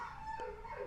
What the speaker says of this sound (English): just the most pathetic, sad bark